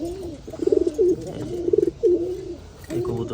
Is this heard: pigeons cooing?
yes